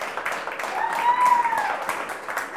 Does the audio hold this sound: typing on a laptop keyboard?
no